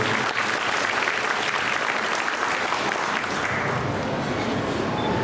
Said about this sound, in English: I would like you to give them a big round of applause for that